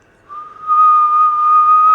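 A voice whistles a steady, rising high tone that holds and grows slightly louder, mimicking an electronic ringtone-like whistle, with no speech.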